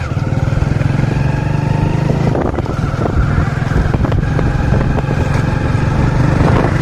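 A Hero Splendor Plus BS4 motorcycle riding along, its steady single-cylinder engine hum loud and close with wind rushing past the microphone, no talking.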